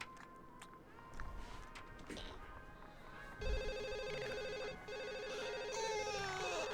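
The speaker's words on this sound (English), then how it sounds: "Listen, I'm not answering that phone." A telephone rings in The Sims on PlayStation 2, its repeated electronic trill sounding in steady bursts over game music and background sounds.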